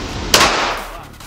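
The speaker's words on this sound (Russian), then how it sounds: "Так, второй выстрел позади." A single sharp gunshot crack, loud and close, fading quickly into a short echoing tail.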